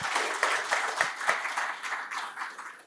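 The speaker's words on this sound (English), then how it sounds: "Let's give all ourselves a round of applause." Audience applause breaks out at the close of a PMI Kenya Chapter panel discussion at a construction expo, a steady wash of many hands clapping with a few sharper claps standing out, moderately loud and sustained throughout.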